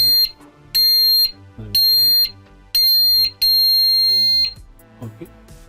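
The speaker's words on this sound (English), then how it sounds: "now one blip the alarm is set" A Pyronix Enforcer alarm system sounds a series of five loud, sharp electronic beeps in an uneven rhythm as it is set, with quieter background sound and some talk between them.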